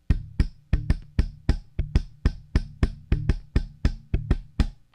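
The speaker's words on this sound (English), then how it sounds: "Afro-Cuban and Brazilian music, where you hear a lot of complicated rhythms that might sound like this" Tight, syncopated bass-and-drums groove in an Afro-Cuban or Brazilian style, with crisp percussive hits and short bass notes repeating in an even pattern for several seconds, played alone and close.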